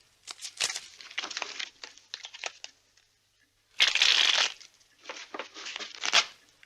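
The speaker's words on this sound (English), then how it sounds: "Shuffle the goddamn cards fast!" A deck of playing cards is shuffled in several quick riffling bursts with short pauses between them. The loudest burst falls near the middle, and no one speaks.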